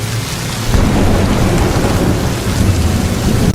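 Heavy rain and thunder at night in a film scene, a loud continuous downpour hiss with a deep rolling thunder rumble breaking in early and sustaining, close and alone without talk.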